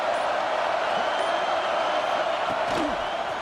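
Stadium crowd at a Clemson versus Washington college football game, a loud sustained roar swelling on a third-down defensive play, with a commentator talking over it.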